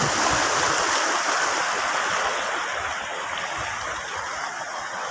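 Sea waves wash continuously along the shore near a lighthouse on a breezy coast, as a loud, steady broadband rush with no distinct breaks. No one speaks.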